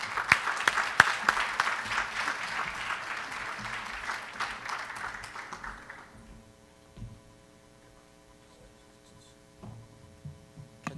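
An audience at a medical missions conference claps to welcome surgeon speakers, a dense burst of applause that fades out after about six seconds, leaving a quiet room with low electrical hum and a few faint knocks.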